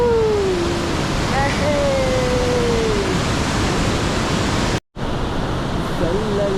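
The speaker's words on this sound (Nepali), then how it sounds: "खोला हेर्नुहोस् त" A mountain river rushing along a hiking trail, a steady loud broadband roar of flowing water running throughout, with a brief dropout near the end.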